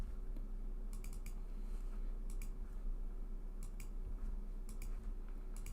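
A computer mouse clicks in small clusters of quick, light taps spread across the clip, close and fairly faint over a steady background hum.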